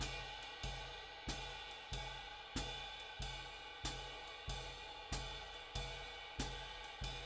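Jazz swing ride pattern on a drum kit, steady evenly spaced cymbal strokes with a regular pulse, close and clear, sustained cymbal wash between hits, no talking.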